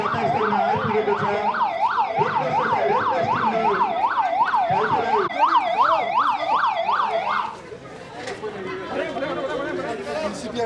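Wailing ambulance siren at the scene of a joint fire and disaster-response drill in Taumadhi, Bhaktapur, loud and close for about seven seconds before cutting off, with crowd chatter and voices beneath and continuing after.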